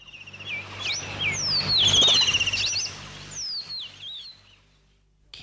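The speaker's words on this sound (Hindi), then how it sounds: "दोनों चिड़िया उड़ गईं।" Two small birds flutter off a cornice, chirping in quick, bright, rising and falling squeaks over a soft whir of wings, loud and close before trailing away into a few last calls.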